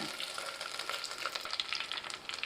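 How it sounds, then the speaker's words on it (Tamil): Cumin seeds and a sprig of curry leaves fry in hot oil that has just popped mustard seeds, for a Kaala fish curry, giving a steady close crackling sizzle with small sharp pops throughout and no voices. "ஒரு அரை தேக்கரண்டி ஜீரகம் ஆட் பண்ணிட்டேன் அதோடு சேர்த்து ஒரு கொத்து கருவேட்பிலையும் ஆட் பண்ணிட்டேன்"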